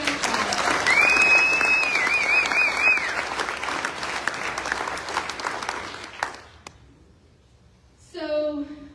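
An audience at a general session of a Florida ALR summit applauds, a dense sustained burst of clapping that gradually thins and fades, with a whistle near the start and a voice speaking briefly at the end.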